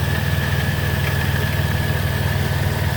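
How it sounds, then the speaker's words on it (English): A 2007 Chrysler Town & Country LX wheelchair van with 330k miles idles smoothly, a close, loud, even low rumble with steady pulsing and a faint higher whine, continuous throughout with no voices. "It idles smoothly. Engine sounds good."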